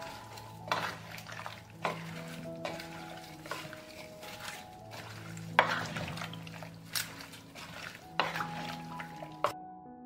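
Hunting salad with sugar, olive oil and 9% vinegar stirred in a pot, a spoon scraping and knocking steadily against the sides with occasional sharper clinks, close-up and continuous, with no voices.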